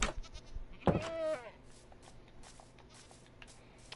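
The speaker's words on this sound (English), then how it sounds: "Got my little goat cave in there." A single wavering goat bleat from a Minecraft game, close and clear, lasting about half a second after a soft click, then faint scattered clicks and shuffling with no talk.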